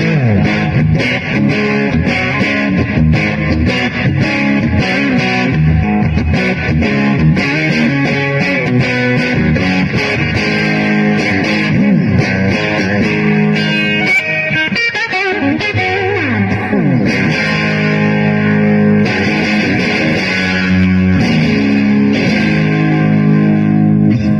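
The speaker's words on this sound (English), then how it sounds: "this pedal is a kind of a crunch more than a distortion pedal" Electric guitar played through a crunchy overdrive, strummed chords and riffs ringing continuously and loud, no talking.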